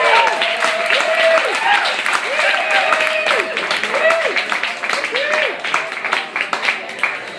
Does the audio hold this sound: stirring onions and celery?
no